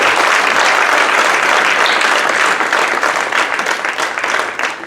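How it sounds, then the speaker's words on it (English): Loud, dense audience applause for two jazz band soloists at a school concert, a steady wash of many hands clapping that tapers slightly at the end. "One more round of applause for those 2 soloists on that"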